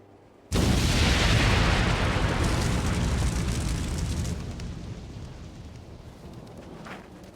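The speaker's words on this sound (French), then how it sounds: "Et si on le met en contact avec l'air, il provoque une explosion" A sudden, loud explosion erupts as vitriol reacts on contact with air, a single broadband blast that rumbles on and slowly fades over several seconds, with no voices.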